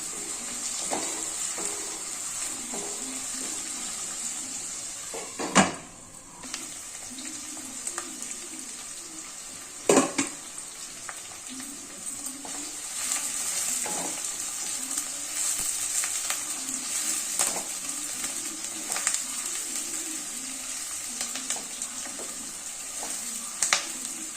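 Onions semi-frying in a pan for tomato poha make a steady close sizzle and crackle, broken by a few sharp clanks of a utensil against the pan around the middle and later.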